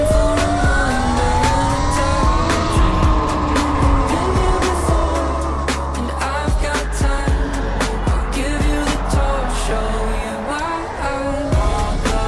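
A Surron electric dirt bike, fitted with upgraded Warp9 and Shimano H03A brakes, brakes hard from about 30 mph. Loud tire and brake squeal and skidding noise rise and fall through several stops, with wind and road rumble close to the microphone.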